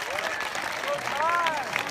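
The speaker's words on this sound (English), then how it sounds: "Give yourself a round of applause." A school crowd applauds, a steady wash of clapping from many hands with a voice talking over it throughout.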